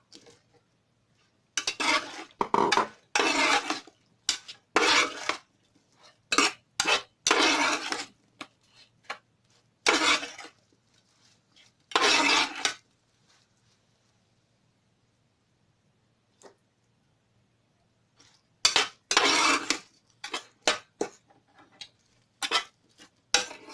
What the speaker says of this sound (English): So now I'm going to add my aubergine.